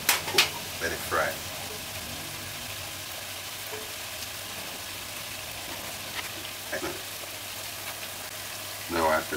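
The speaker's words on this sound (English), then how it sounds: "you should just leave it, let it cook, let it fry" Jamaican salt-fish fritters fry in a pot of oil with a steady, soft hiss and crackle, and occasional brief clatters and voices break through.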